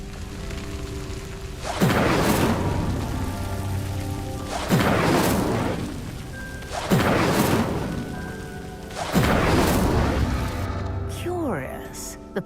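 Incendio fire spell from Hogwarts Legacy igniting a pyre, heard as four loud whooshing bursts of flame at regular intervals, each swelling then fading, with a brief sparkling tail at the end.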